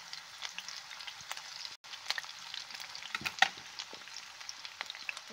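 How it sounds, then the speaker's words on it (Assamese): Onions fry in hot oil in a home kitchen, giving a steady close crackling sizzle with scattered pops and stirring scrapes, and no voices. "তেল গৰম হ'ল, ইয়াত মই পিঁয়াজ দি দিছোঁ।"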